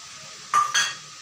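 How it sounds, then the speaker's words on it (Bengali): Ginger-garlic paste hits hot oil in a pan, giving two short bursts of scraping and sizzle over a faint steady frying hiss, close and clear. "তেলের মধ্যে প্রথমেই আদা আর রসুন বাটাটা আমি অ্যাড করব"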